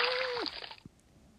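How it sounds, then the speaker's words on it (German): A person jumps into a backyard swimming pool: a loud, broad water splash and sloshing fills the first half-second, then fades to quieter dripping and a faint voice. "ich springe jetzt ins Wasser"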